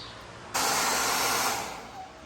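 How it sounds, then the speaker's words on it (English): A hair dryer switches on abruptly and blows with a steady, loud broadband whoosh, heating a Toyota Tacoma part, then eases slightly toward the end. "I heated that one up with a hairdryer"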